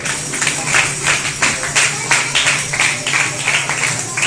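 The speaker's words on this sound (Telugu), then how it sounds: "మహేశ్వర్ అక్క వాళ్ళ కుటుంబం క్లాప్స్ కొట్టండి" An audience claps for a family at a Vacation Bible School event, a steady, close patter of many hands with rhythmic bursts throughout, while a voice speaks over it.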